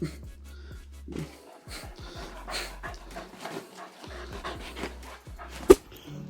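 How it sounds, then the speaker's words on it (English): Nearby dog sounds, with rapid panting, soft whimpers and sniffing, plus one sharp yip near the end. "Two very different dogs."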